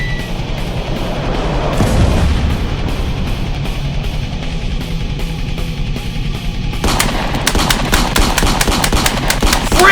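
Rapid bursts of machine-gun and artillery-style gunfire, a loud, dense sound effect of continuous firing with heavy booms, growing sharper and crackling in the second half, with no talking.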